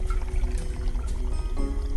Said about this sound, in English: Now, if we pour some water into this vessel